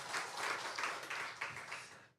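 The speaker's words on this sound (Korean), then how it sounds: "우리 하나님께 영광의 박수 올려드리겠습니다" Congregation applause during a Sunday church service, a short burst of faint, distant clapping in uneven waves that fades out at the end.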